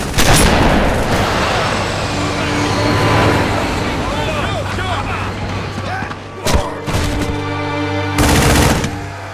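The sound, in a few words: gunfire in Halo video game cinematic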